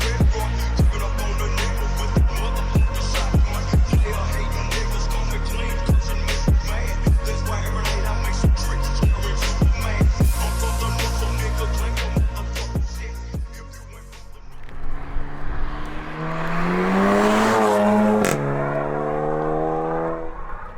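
A VW Golf GTI MK7.5 with a Remus exhaust drives past, its engine droning with crackling pops from the exhaust, then accelerates hard, the pitch climbing through the gears.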